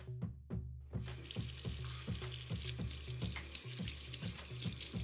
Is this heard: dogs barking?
no